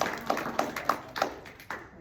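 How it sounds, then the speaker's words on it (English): Several separate bursts of clapping from a small audience at a comedy talk at St. Ann's in Raynham, Massachusetts, sparse and uneven rather than sustained applause, fading out near the end. "You clapped right on cue."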